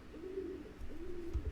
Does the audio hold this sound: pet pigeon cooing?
yes